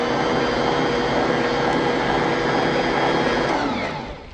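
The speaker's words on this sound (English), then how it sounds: "and give it a little blend" An electric blender whirs steadily and loudly while mixing biscotti dough ingredients of cinnamon and salt, a dense constant motor roar that tapers off in the final moments.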